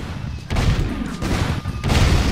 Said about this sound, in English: Shoot the gun, Jack!